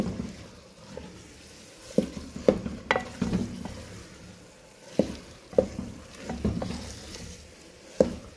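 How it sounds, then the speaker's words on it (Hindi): Saag with spices is stirred and cooked in a pan: a soft background sizzle broken by a series of sharp spoon scrapes and clinks against the pan at irregular intervals, close and clear with no talking. "अब ये सारा मैं इसके अंदर शामिल करूँगी, ठीक है। और अच्छे तरीके से इसको मिक्स कर लूँगी।"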